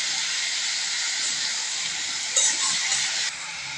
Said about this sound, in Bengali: তেল, শুকনো মরিচ আর রসুনের মধ্যে শাকগুলো দিয়ে নাড়াচাড়া করে সুন্দর করে ভেজে নিচ্ছে।